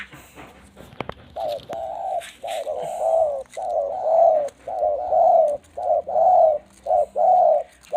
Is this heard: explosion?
no